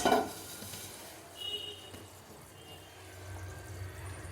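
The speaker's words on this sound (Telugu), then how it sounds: "నేను అన్నీ కచ్చికాయలని ఒక ప్యాన్ పైన ఆయిల్ పెట్టాను ఇప్పుడు ఆయిల్లో వేసుకుందాము" Kachchi kayalu, small sweet dough balls, are dropped one by one into hot oil in a pan and fry with a soft, low sizzle and faint bubbling, quiet and close with no one talking.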